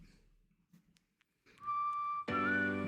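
A clear whistled melody from a song, a sustained bright tone that rises and bends, followed by a loud burst of fuller backing music.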